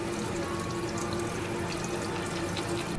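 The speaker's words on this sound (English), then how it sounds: "It is very important to let the water pour in slowly and shake every few seconds." Water from a tap runs slowly into an instant food cup, a steady continuous pour with a faint hollow ring, close and alone throughout.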